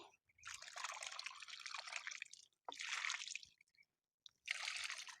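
Mixed liquid poured onto a struggling bean plant: three close, steady splashing pours, each lasting a second or two, separated by brief silences.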